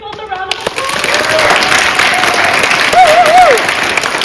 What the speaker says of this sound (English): All right, let's give them both a round of applause.